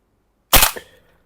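One sharp, loud crack from a WE gas blowback AK-74 airsoft rifle with a steel body, decaying quickly into a short ringing tail, alone in a quiet room.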